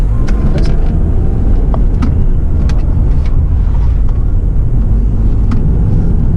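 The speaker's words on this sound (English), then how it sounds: "Oh my god, I actually love the drive of this Camry so much." A 2019 Toyota Camry drives along, heard from inside as a loud, constant low road and engine rumble with faint scattered clicks and no pauses.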